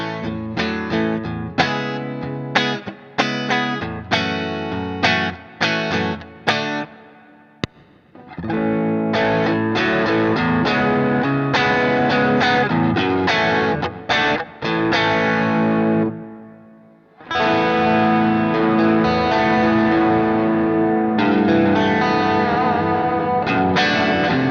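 Electric guitar played through a NUX Cerberus multi-effects pedal with its drive section serving as the preamp, sounding loud and distorted as it strums chords and riffs continuously, with brief breaks near the 8- and 17-second marks.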